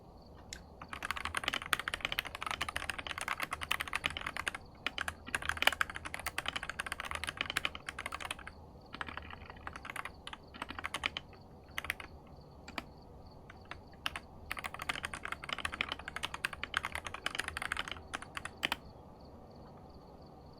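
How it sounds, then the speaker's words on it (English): Loud clicky computer keyboard typed on continuously in fast, uneven bursts of sharp clacks with brief pauses, close and dry over a faint steady background hum. "I like the way my keyboard sounds, but I don't like it when it's overwhelmingly loud."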